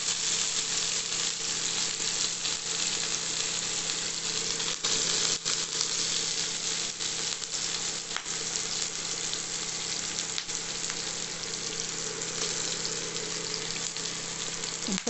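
Chopped onions fry in hot oil in a pan for a beetroot curry, a dense, continuous sizzle that stays loud and even throughout with occasional faint clinks, and no voices.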